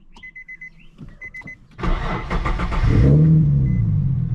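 A Nissan G37 with a newly replaced alternator starts up: a run of dash chimes and clicks, then the starter cranks and the engine catches with a loud rev before settling into a steady, close idle.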